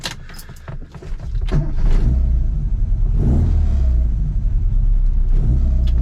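A classic Mini Cooper in racing green with a John Cooper conversion and twin SU carburettors pulls away and drives: engine rumble builds after a couple of seconds of clatter, then holds loud and steady close by, with no talk.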